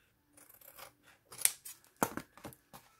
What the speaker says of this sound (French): On coupe l'excédent de papier qui est sur le côté